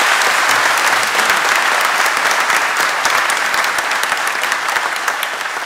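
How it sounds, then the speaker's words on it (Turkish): Steady, loud applause from a large crowd, continuous clapping that holds evenly throughout with no talking over it. "Bir alkış daha hak ediyorlar."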